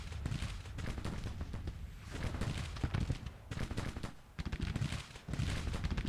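Continuous rumbling battle din of Civil War artillery and musketry in the strategy game Grand Tactician, dense overlapping booms and crackle at moderate loudness with brief lulls.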